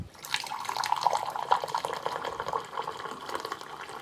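Hot water pours from the dispenser of an Avalon A13 bottleless electric water cooler into a cup, a continuous splashing, gurgling fill with drips, close and steady for several seconds, no voices.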